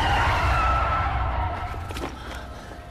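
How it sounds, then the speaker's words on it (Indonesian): A car skids and strikes a person in a horror film scene, a loud smeared screech of tires with rushing noise that fades over about three seconds, under a dense rumbling score. "tiba-tiba ia ditabrak oleh mobil"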